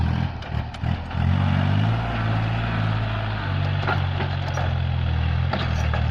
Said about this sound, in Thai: คลิปนี้จะพามาชมรถไถคูโบต้านะฮะ L4018 นะครับ